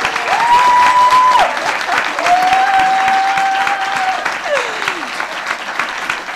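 An audience applauds steadily for Céline Dehaene at a Flammarion Jeunesse presentation event. The clapping stays loud and sustained throughout, with a voice speaking over it and a microphone feedback whine sounding in places.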